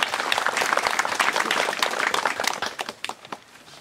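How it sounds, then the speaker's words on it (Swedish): An audience at an outdoor sing-along at a Larsmo homestead gathering gives a warm round of steady applause that thins out into scattered final claps. "Och också till dem en stor applåd"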